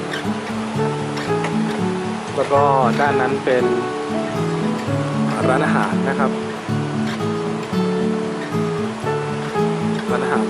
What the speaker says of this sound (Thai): ชมบรรยากาศลำธารขุนเขาครับ